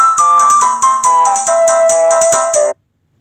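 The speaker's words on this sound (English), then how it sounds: "My phone is ringing." A phone ringtone plays a bright, descending melody from the Zelda theme in rapid repeated electronic notes, loud and close, cutting off abruptly after under three seconds.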